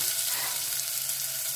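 Onions frying in two spoonfuls of olive oil in a saucepan, giving a steady, close, dense sizzle that holds evenly throughout with no talk.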